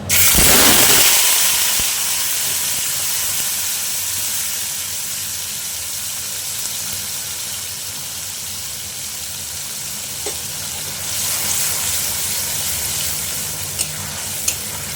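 Ginger, onion and garlic paste hits hot oil with tempered whole spices for a Bengali chicken bharta, giving a loud burst of sizzling that settles into a steady, dense frying hiss with occasional stirring scrapes.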